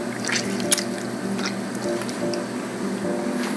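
Big beef hybrid tomatoes are squished into puree, giving wet squelches and drips with a few sharp splashy ticks over a steady liquid background, close and fairly loud.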